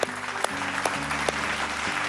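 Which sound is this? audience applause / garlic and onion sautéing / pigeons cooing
audience applause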